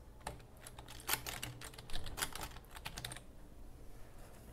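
Quick bursts of keystrokes on a computer keyboard as text is entered into a web form, close and crisp with uneven rhythm and short pauses, no talking.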